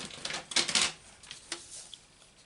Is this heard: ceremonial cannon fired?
no